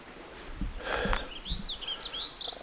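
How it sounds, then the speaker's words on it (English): Birds chirp on a cold, crisp morning at a mountain backcountry campsite in the Lost Creek Wilderness, a series of short, quick tweets at moderate distance over faint rustling. "cold, crisp morning, birds chirping"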